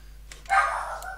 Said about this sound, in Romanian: Da, normal că câinele latră.